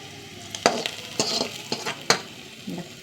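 Onions and two or three dried red chillies frying in a pan for a spinach curry, a soft sizzle broken by several sharp scrapes and clinks of a spoon stirring, close and fairly quiet.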